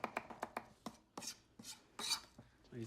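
A knife chops an onion quickly on a board in a rapid series of crisp taps, followed by a few softer scraping strokes, close and fairly quiet.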